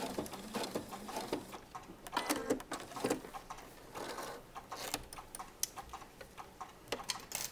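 Sewing machine stitching and reinforcing Lastin elastic, a busy run of fast ticking, clattering stitches in short irregular bursts, close and fairly faint, with no talking.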